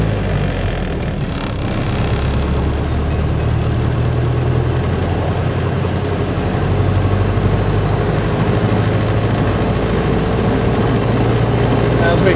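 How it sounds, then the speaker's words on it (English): A 1928-1931 Ford Model A fitted with an overdrive runs at highway speed, its engine a steady low drone with road and wind rumble holding level throughout without speech. "test it at highway speed, see how it handles"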